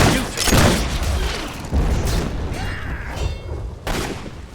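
Gunfire and heavy booms in the Fable 3 video game, a battle rolling on with several loud thuds and bursts that swell and fade over a constant rumble of combat.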